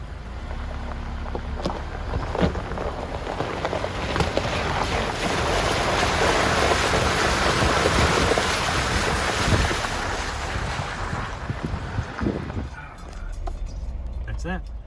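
Continuous rushing, splashing water with wind buffeting the microphone, as a vehicle pushes through a creek crossing, steady for most of the clip before easing off.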